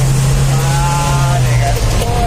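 A Mitsubishi L300 engine runs smoothly and steadily at a low idle, a constant hum close by, while a person talks over it.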